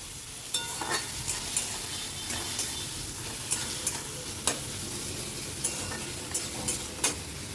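Oil spattering in a frying pan with a spatula: a continuous fizzing sizzle broken by regular sharp ticks of the spatula striking the pan, fairly close and with no one speaking.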